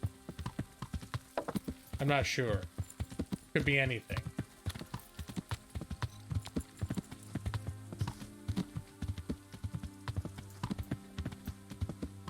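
Horse hooves clip-clop in steady, uneven patter through a medieval Kingdom Come Deliverance game scene, moderately close, with someone talking over them at times.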